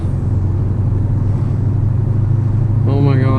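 A 500-horsepower Ferrari sports car engine rumbles loud and close as it accelerates, with a rising tone showing near the end.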